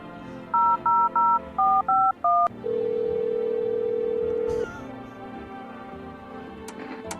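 Touch-tone phone keys dial a FEMA hotline in a video game: six quick, loud, evenly spaced beeps, then a longer steady tone over a faint background hum.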